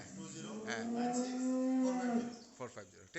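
A single cow of an improved breed at a dairy farm near Chattogram lets out one long, fairly close moo, followed by a few faint knocks.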